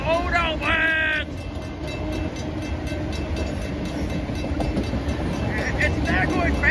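A westbound Norfolk Southern manifest freight train rolls past a crossing at Munson Highway, a steady loud rumble of railcars continuing throughout with squealing wheel tones near the start and end, and a voice briefly heard.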